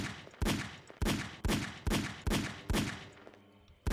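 Single gunshots in the video game Box Crash, about seven sharp loud reports fired at a steady rhythm roughly every half second, each with a short decaying tail.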